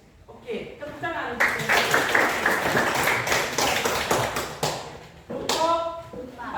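A group of students applauds after a group presentation, a burst of many hands clapping that swells for a few seconds and then fades, with voices speaking before and after.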